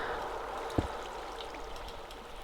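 Flowing water in Minecraft trickles and rushes in a steady, soft wash throughout, with one brief click partway through and no talking.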